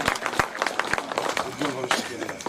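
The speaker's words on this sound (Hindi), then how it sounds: "जोरदार तालियां बजाकर" An audience at a poetry gathering claps in scattered sharp claps, a few distinct hand strikes spread over a couple of seconds, while people talk over them.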